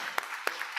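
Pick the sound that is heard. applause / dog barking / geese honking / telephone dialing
applause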